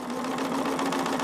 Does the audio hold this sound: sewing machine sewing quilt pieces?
yes